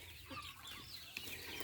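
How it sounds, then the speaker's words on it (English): Chickens clucking in an outdoor compost system holding around 250 birds, several overlapping clucks and soft calls from a flock, moderately close and steady with no one talking. "here in this area we have around 250 chicken"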